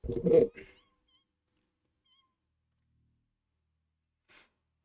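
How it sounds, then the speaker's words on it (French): Creatures in the factory-building video game Satisfactory give a short, close meow-like cry, followed by near silence and a faint brief sound later. "Ah non, elles sont encore là. Ça fait encore miaou."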